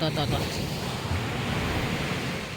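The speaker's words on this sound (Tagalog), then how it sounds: "Nakita niyo yung alon?" Ocean waves wash onto the beach at a newly opened resort, a soft continuous rush of surf mixed with wind noise on the microphone, fairly faint and steady throughout.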